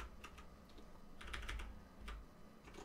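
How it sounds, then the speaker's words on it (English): Someone presses keys on a computer keyboard, tapping them quietly and up close in short irregular bursts against low room hum, with one brief cluster of quick presses and no speech. "using my keyboard to go up and down the values"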